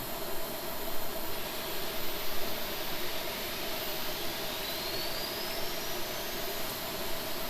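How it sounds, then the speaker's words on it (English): Aerosoft Airbus A330 engine number two spooling up in the Prepar3D flight simulator: a steady, loud jet roar and whine that holds evenly throughout, with no talking. "I would go ahead and start the engine number 2. Starting engine."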